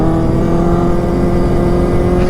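A Honda Click scooter carrying a passenger drives close by with a loud, steady mid-pitched engine drone that holds throughout the short moment.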